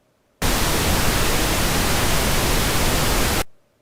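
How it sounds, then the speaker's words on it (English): Steady pink noise, a loud even hiss with a softer, fuller tone than white noise, runs for three seconds and then quickly fades out. "And now Gaussian pink noise."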